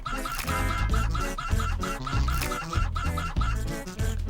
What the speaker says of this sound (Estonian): Vaata, kui palju mul kanu siin on.